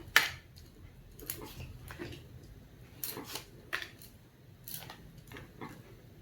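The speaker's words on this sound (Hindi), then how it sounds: "ओके तो मैं कार्ड्स को ले आउट कर देती हूँ।" Tarot cards are laid out on a table in a scattered series of soft, faint slaps and light taps, with short pauses between cards.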